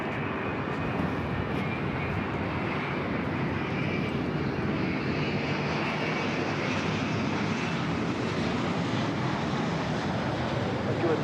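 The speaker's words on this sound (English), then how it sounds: "The flight heading back to Osaka now rolling down 24 left." An airliner bound for Osaka takes off on runway 24 left at LAX, its jet engines giving a loud, steady roar that holds evenly throughout the take-off roll.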